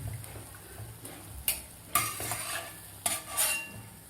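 Sweet wheat-flour and jaggery gulgule fry in hot oil with a low continuous sizzle, while a utensil turns them, giving several sharp clinks and stirring scrapes.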